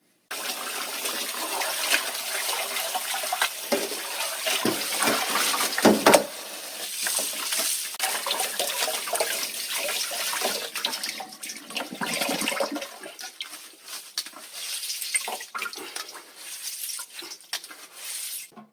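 Running tap water gushes loudly and steadily over boiled noodles as they are rinsed, a continuous close splashing rush that goes on for nearly twenty seconds.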